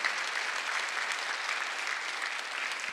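A church congregation at a Sunday worship service breaks into steady, sustained applause, a dense wash of many hands clapping at moderate distance with no talking over it.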